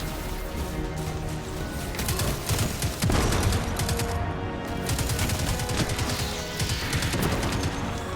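Rapid, dense weapon fire from a Destiny 2 match on PS4, with a heavy rocket launcher blast landing around the midpoint amid steady, loud bursts and clatter throughout.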